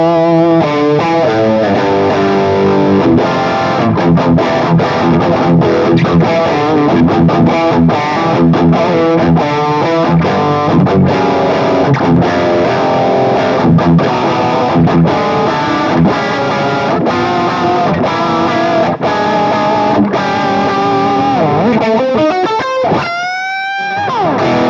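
An electric guitar played through a pedalboard with TH-U Overloud software effects rings out loud and distorted, with chorus-like shimmer, sustained chords and riffs running throughout before a sweeping, pitch-bending flourish at the end.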